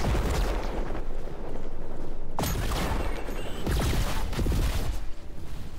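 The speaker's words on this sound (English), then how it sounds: "Did the flashbang work?" A flashbang grenade detonates in a video game, a loud dense blast with sharp bursts and rumbling over a continuous noisy backdrop, with further booming impacts following.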